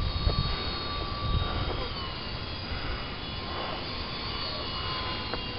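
A radio-controlled slow-flying biplane passes along a street, its small motor giving a continuous faint buzz and whine over low rumbling background noise.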